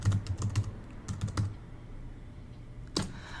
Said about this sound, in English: See, I can't talk and type at the same time.